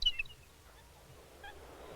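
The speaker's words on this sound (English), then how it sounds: "Buldir is the last nesting stronghold of an endangered species, the Aleutian Canada goose." An endangered Aleutian Canada goose on Buldir Island in the Aleutians gives a brief honk at the start, followed by faint, distant bird calls over quiet outdoor ambience.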